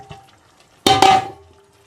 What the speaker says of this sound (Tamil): இப்போ நம்ம இங்கே ஆல்ரெடி பொரித்து பிச்சு வச்சுருக்கிற சிக்கனை இதில் கொட்டிப்போம்.